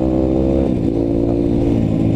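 A Honda CRF motorcycle engine runs hard on a rough dirt trail at Cisadon, a loud continuous close-up roar with rising and falling revs and no pause.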